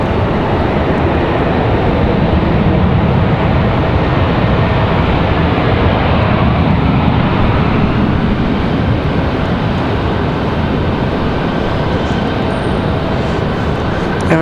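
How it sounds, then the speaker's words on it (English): An Avelo charter airliner takes off at Raleigh-Durham International Airport, its engines a loud, steady, broadband roar that holds without letup throughout, close and dominant with no voices over it. "And we've got another Avelo, that charter flight, getting a move on."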